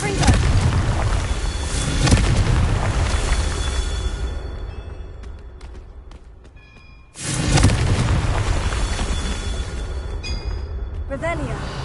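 Confringo spell blasts in a wizard video game: two heavy booming explosions, each with a deep rumbling tail that slowly fades, separated by a quieter stretch.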